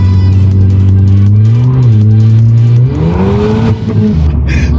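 A Ford ST driven hard in snow with traction control off, the engine note climbing and falling through revs, loud and close from inside the car, ending in a sharper burst of tire and road noise.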